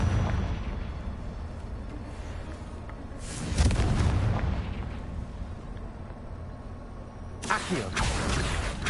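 Confringo fire explosion spells cast in Hogwarts Legacy, a loud burst near 3.5 seconds and another near 7.5 seconds over a constant rumbling game soundscape.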